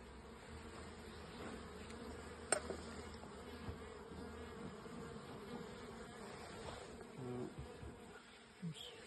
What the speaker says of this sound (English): Quite a few bees up the top on the crown board.